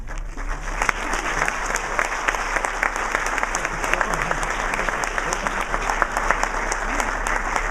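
An architecture award ceremony audience gives a warm, sustained round of applause for the prize winners, a dense, even clapping that lasts throughout with no talking.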